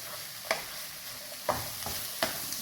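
A spatula scrapes through fried rice with vegetables, green beans, carrots and eggs in a hot pan, giving three distinct stirring strokes over a steady background sizzle.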